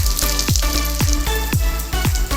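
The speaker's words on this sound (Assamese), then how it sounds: "ভালদৰে ভাজি ল'ম আৰু মছলাৰ পৰা তেলখিনি ওলোৱাই নোযোৱালৈ মই অকণমান ফ্ৰাই কৰি ল'ম" Masala paste with turmeric, salt and spice powders fries in oil for a sesame fish curry, a steady sizzle broken by regular scraping stirs about every half second, close and alone.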